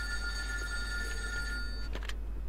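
In the video game The Godfather II, a telephone rings with a bright, steady electronic bell tone over a low background hum, cut off by a couple of short clicks near the end.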